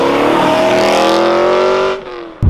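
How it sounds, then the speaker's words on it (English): A decatted BMW M3 V8 roars loudly past at close range, a dense, continuous exhaust blare that drops away abruptly near the end before a brief final burst. "just listen to the burbles and the kind of roaring V8"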